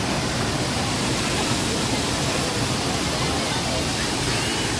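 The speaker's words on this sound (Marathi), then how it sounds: "माझ्या मागे वॉटरफॉल दिसतंय" A roaring waterfall on a road trip in Sikkim gives a dense, steady rush of water noise that fills the whole stretch evenly without letting up.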